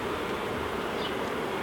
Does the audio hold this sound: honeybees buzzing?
yes